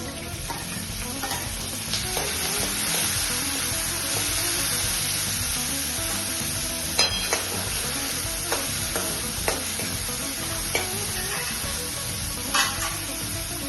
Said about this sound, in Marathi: कांद्याला लालसर येईपर्यंत भाजून घ्यायचं हलक्या हाताने।